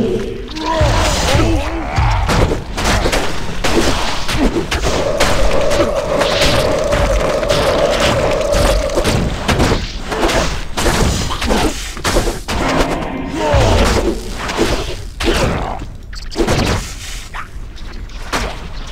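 Corpse explosion skill in Diablo 2 setting off a steady barrage of booming blasts and crashing impacts, loud and continuous across the stretch, with dense game noise and no voices.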